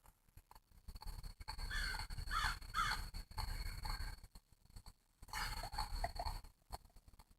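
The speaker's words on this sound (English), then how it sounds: "You tell me what the name of that bird is?" A bird caws harshly a few times in a faint, distant outdoor setting, with a steady background hiss and rumble.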